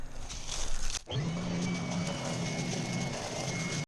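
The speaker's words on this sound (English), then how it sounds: "you lay it on the ground and turn it on, and then you force feed it leaves" A Toro Ultra blower vac with vacuum attachments runs on the ground while leaves are fed into it, giving a steady loud motor drone with a low hum and high whine after a brief cut, continuing throughout.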